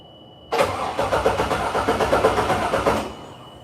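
A Toyota FJ40 off-road build's engine fires up abruptly and runs loud and close for about two and a half seconds with a lumpy, rhythmic pulsing beat, then cuts off.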